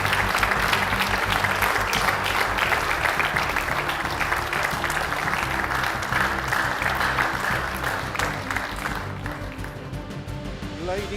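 A crowd at a billiards championship presentation applauds the winner, loud sustained clapping over eleven seconds that thins out slightly toward the end.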